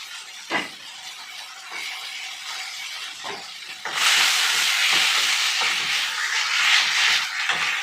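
Katla fish fat fries in oil, first a softer hiss broken by a few taps, then a loud, dense sizzle that flares up and keeps crackling close by.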